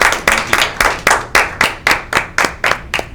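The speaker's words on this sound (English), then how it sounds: "Let's have a round of applause." Hands clap in a steady, fast rhythm of about a dozen sharp, evenly spaced claps at a local studio talk show. The clapping is close and loud, with no talk over it.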